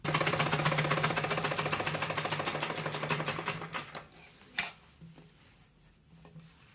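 A sewing machine stitches salwar fabric in a fast, steady mechanical run for about four seconds, then stops, leaving a sharp clack and quiet handling sounds.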